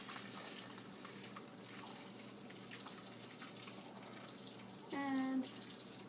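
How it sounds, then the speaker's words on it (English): Hot vegetable broth pours steadily through a strainer, a continuous close splashing rush of liquid that swells briefly near the end. "So now, carefully, because this is hot, you just start pouring through."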